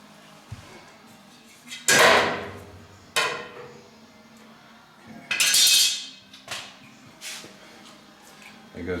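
Metal panel on a 1936 barn-find pickup being cut, giving several loud, separate bursts of harsh grinding or cutting noise a second or so each, with quieter gaps of workshop background between them.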